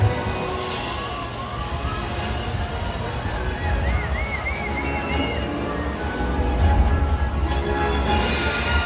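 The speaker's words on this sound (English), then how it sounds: "you all have seen these waves crashing in front of you" Rushing, sloshing water and surf churn steadily as killer whales splash waves at a marine park show, with a faint high whistling squeal partway through over the continuous wash.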